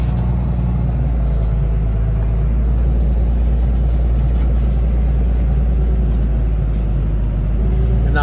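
A truck hauling a loaded hay trailer rumbles loudly and steadily up close as it swings deep into a roadside bar ditch to make a turn, its deep engine drone constant throughout.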